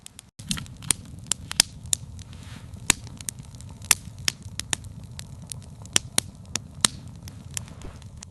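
A small campfire built for warmth and cooking in the wild crackles with sharp, irregular pops and snaps over a soft low rumble, fairly close and otherwise quiet.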